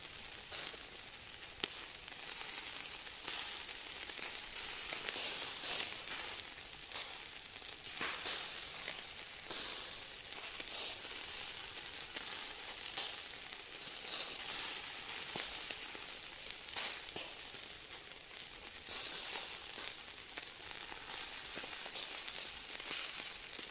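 Chicken pieces sizzling steadily in a frying pan for a creamy garlic chicken dish, a continuous bright hiss and crackle close by, with no talking.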